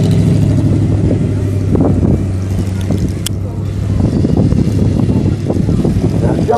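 An Aveling and Porter road roller built in 1930 working at a steam rally, a close steady mechanical chuffing and rumble with rhythmic bursts, heard under an announcer's voice.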